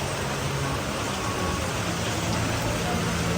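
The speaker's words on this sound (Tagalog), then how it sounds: "Grabing ulan." Steady, dense hiss of heavy rain pouring down close by during flooding in Manila, constant throughout with no let-up.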